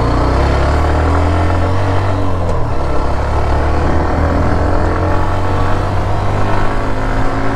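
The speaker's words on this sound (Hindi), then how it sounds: "अभी यहाँ पे आपको तीसरे गियर पे ना मैं हाई RPM की" A Hero Xtreme 125R motorcycle engine held at high revs in third gear, a loud, steady onboard drone with a strong low hum and wind rush throughout, no talking.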